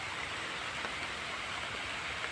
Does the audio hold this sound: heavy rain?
yes